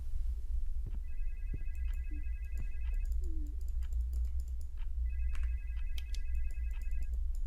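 A telephone rings inside a video game, sounding in two long double-toned bursts with a pause between them, heard at moderate distance over a low background hum with scattered clicks and keyboard taps.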